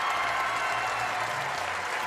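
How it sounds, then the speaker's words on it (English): Crowd applause and cheering fill the hall after an archery championship shoot-off, a dense steady roar of clapping that holds for the whole stretch. "as the crowd erupts"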